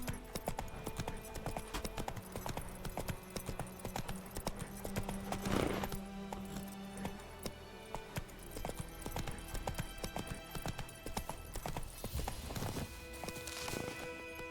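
Galloping hooves of the horse Roach in the video game The Witcher 3, a rapid steady clip-clop rhythm running the whole stretch, mixed with game ambience and a brief tonal swell midway.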